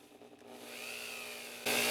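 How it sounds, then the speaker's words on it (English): A small rotary drill cuts a stone seat into a 24K gold wedding band for emeralds, giving a thin whine that rises and holds, then jumps louder near the end, close and with no talk. "We do a little drilling"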